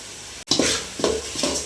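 Tomato and curry leaves sautéing in a pan for mutton kulambu give a steady soft sizzle, with a few louder stirring scrapes and bursts recurring close by, no talk.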